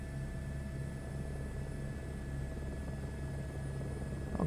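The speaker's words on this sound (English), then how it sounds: "A helicopter." A helicopter in the Microsoft Flight Simulator 2024 video game gives off a faint, steady rotor and engine hum. The drone stays constant throughout, with no talking over it.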